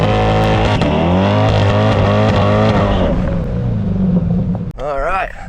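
A C8 Corvette does a burnout at a drag strip, its engine roaring loud and close with a steady high-revving drone that eases off, then a voice cuts in near the end.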